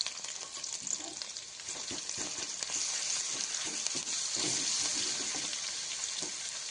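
Green chilli and ginger-garlic paste with cumin seeds spitting in hot oil in a pan, a steady close, bright sizzle running throughout with faint stirring clicks and no voices.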